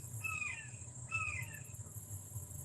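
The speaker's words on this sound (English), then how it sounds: "That's a big hawk. Big red tail. Hawk is calling that in." A large red-tailed hawk calls twice, each a descending, raspy cry, distant and faint over a steady low background hum and outdoor ambience.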